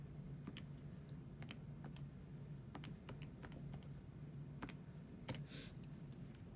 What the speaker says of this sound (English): So we type this in the calculator.